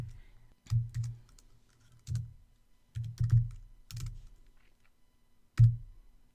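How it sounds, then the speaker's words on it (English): CSS code is typed on a computer keyboard in short, uneven bursts of close, dull key clicks separated by pauses, with no talking. "and then in the main element, you type in this code,"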